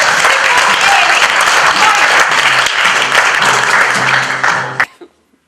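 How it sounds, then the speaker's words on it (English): Loud, dense applause from a conference audience at a Toronto business event, a steady wash of many hands clapping for about five seconds before stopping abruptly. "let's give him a big round of applause"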